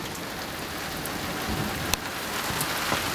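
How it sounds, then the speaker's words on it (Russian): Steady rain patters and hisses on surfaces, with a few sharper drips standing out near the middle. "познакомилась с дождем"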